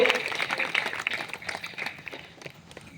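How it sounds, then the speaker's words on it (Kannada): An audience at an honouring ceremony breaks into applause, a dense patter of clapping that starts strong and gradually thins and fades over a few seconds, with some voices mixed in. "ಮತ್ತೊಮ್ಮೆ ತಾವೆಲ್ಲ ಜೋರಾಗಿ ಚಪ್ಪಾಳೆ ತಟ್ಟಿ ಅವರಿಗೆ ಅಭಿನಂದಿಸಬೇಕು"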